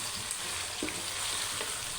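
Tomatoes are stirred into a sizzling pan for a chicken and cauliflower gravy, giving a steady broadband frying hiss with a few soft scraping stirs, close and even, with no voices.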